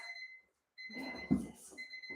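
An electronic buzzer sounds a steady, sustained tone, cuts out briefly, then resumes, heard alone at moderate volume in a quiet room during an exercise session.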